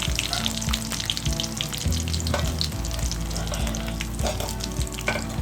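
Mustard seeds, dried chillies, curry leaves and asafoetida fry in hot oil for a rasam tempering, making a loud, steady crackling sizzle with occasional stirring clicks over a low, constant hum.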